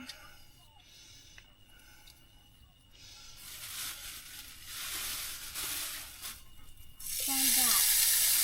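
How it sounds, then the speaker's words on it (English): Smash burgers hit a hot surface at a dog-friendly campsite in Holyhead, starting a loud hissing sizzle that swells in bursts and grows strongest near the end, with a few quiet voices at the start. "now I'm going to make myself 2 smash burgers"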